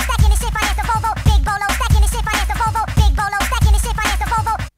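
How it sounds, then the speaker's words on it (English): A pitched-up, chipmunk-like rap vocal sample chops along over a loud, punchy drum beat in a big beat or hardcore techno style, repeating in a tight loop. "which gave this chipmunk voice effect."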